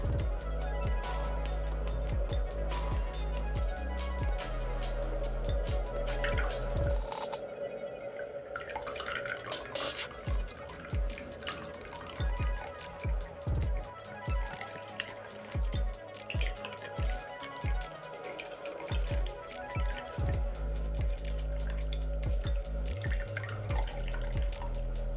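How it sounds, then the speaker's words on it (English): Grated onion squeezed by hand, its juice dripping and trickling into a container in a steady patter of small wet drops with occasional squishy squeezes, close and fairly loud, no talking. "Now I will gently squeeze out the water."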